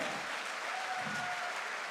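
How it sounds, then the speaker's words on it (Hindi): Steady audience applause at a celebration event, a dense, even wash of clapping hands sustained throughout without pause. "एक बार खुद के लिए सबसे पहले तालियां बजाइए"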